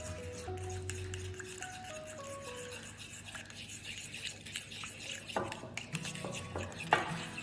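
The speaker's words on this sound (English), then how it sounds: "So you give that a good mix around." A spoon stirs a lime juice marinade in a bowl, producing soft continuous swishing with light clinks against the side, quiet and close under faint background hum.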